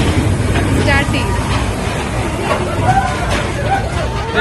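A monorail roller coaster ride at Disneyland, with a constant low rumble of the ride under dense crowd chatter and voices throughout.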